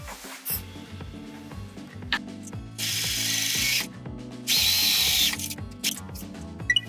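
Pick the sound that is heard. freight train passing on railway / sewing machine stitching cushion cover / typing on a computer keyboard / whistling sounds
sewing machine stitching cushion cover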